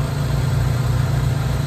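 Chevy Cobalt SS turbo engine idling during a carbon-cleaning treatment, a steady, loud low-pitched hum with a slight regular pulse and no voices.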